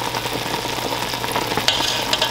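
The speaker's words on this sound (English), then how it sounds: "I'm gonna just baste it as we go along, and just keep basting it." Jerk chicken sizzles and fries as it is basted while slow-cooking on a stovetop. A close, continuous crackle carries a steady hiss throughout, broken by a few sharper spatters and the soft scrape of stirring.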